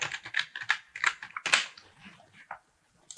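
Rapid bursts of keystrokes on a computer keyboard while naming a layer in Photoshop, close and crisp, with short pauses between clusters before falling quiet.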